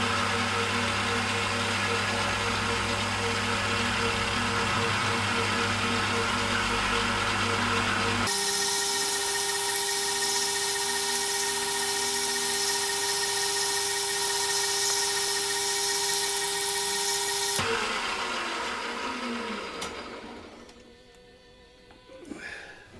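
A steady, loud mechanical whine of a drill with a 5mm bit running continuously through a metal rifle bolt knob, shifting pitch partway through, then winding down near the end.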